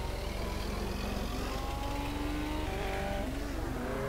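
A car engine revs and drones continuously in an MTA:SA street racing game, a loud, rough, pulsing roar with shifting pitch as it accelerates.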